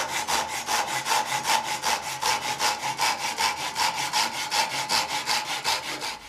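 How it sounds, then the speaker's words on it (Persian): A fine-toothed hand saw crosscuts wood across the grain in steady, even strokes, roughly three or four per second, close up and alone with no talking. "یک برش هم که دندونه های ریز هست برای برش عمود بر بافت چوبه، که اصطلاح کراس کات"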